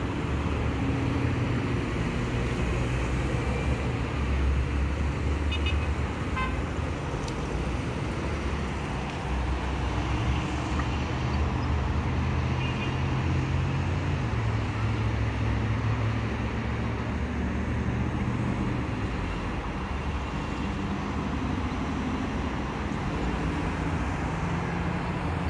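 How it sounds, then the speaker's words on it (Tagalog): Evening road traffic along a seaside road, a continuous low rumble of passing vehicles with engines droning steadily, heavier and closer at moments but never breaking into distinct individual passes. "Medyo traffic na sa ganitong oras."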